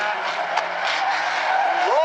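Stinger 8 race cars slide sideways through a turn at South Sound Speedway, their engines a loud, strained roar with a rising squeal at the end, under a commentator's excited talk.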